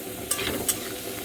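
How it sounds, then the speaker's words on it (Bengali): Egg and chicken stir-fried for chicken chow mein, a soft continuous sizzle with two quick scraping strokes of a spatula, close and fairly quiet. "ডিম আর চিকেনটা দিয়ে দিলাম। ভালো করে কষাতে হবে"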